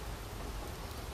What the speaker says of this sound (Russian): дождь идет на убыль.